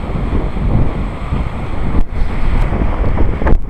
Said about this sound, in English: Waves are crashing. Everywhere, wind's blowing.